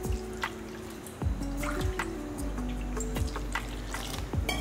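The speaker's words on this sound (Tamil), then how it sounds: "இதில் 2 கப் அளவுக்கு தண்ணி ஊற்றிக்குங்க" Water is poured into idli flour batter in a kitchen, a steady trickling flow with repeated drips and soft splashes, close and continuous.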